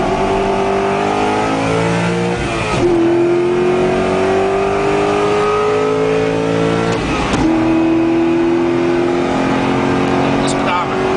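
A Corvette accelerates hard toward 130 mph, its engine climbing loud and steady through two gear changes with a brief dip at each shift, then pulling again; a voice talks over it.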